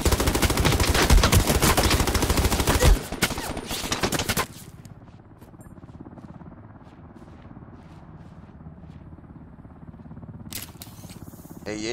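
Rapid automatic gunfire in the online shooter Ring of Elysium bursts loud and dense for about four seconds, then cuts off, leaving quieter scattered shots and ambient game noise.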